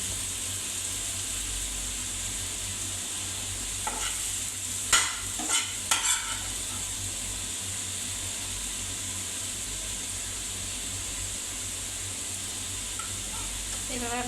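Fish and spice masala frying in a pan, a steady hiss of sizzling oil throughout, with a few brief scraping stirs of a utensil near the start.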